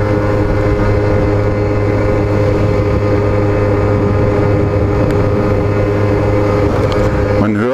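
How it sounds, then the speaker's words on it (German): A steady, laboring engine drone with a low hum runs continuously, loud and close, as an Explorer Race GT 50 scooter's small engine strains climbing uphill. "Man hört ja, ne? Wie der Motor arbeitet."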